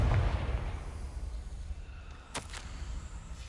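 A fiery Confringo blast spell bursts in Hogwarts Legacy, a heavy low boom up front that rumbles and decays, with a sharper crackle flaring briefly near the end.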